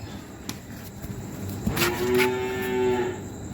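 An Indian Friesian heifer gives one loud, drawn-out moo close by after a short stretch of quiet farmyard noise, with no talking.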